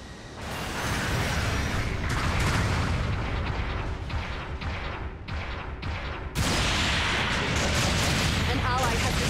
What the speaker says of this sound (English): Supporting fire incoming.